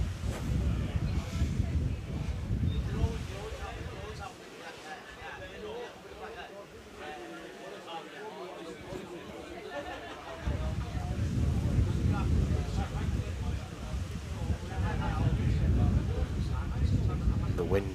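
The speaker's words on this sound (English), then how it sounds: "The wind is really swirling out there." Wind buffets the microphone in gusts over a wet rugby pitch during a Sedgley Tigers versus Rosslyn Park match, rising and dropping through the clip beneath steady commentary.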